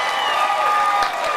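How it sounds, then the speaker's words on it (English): A comedy show crowd gives a round of applause, a dense wash of clapping with some cheering mixed in. It stays steady and fairly loud across the moment, with no clear talk on top. "Round of applause, people who remember playing dodgeball."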